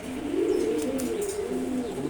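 A pair of silver Gorra pigeons coo in a low, steady, rolling drone close by, with faint chirps above it and no voices.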